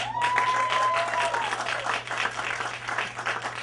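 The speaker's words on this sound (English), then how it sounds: "Could I hear a big round of applause for slightly known people" An audience at a live comedy music show at Rififi in New York claps loudly in sustained applause, with a brief tone ringing out near the start.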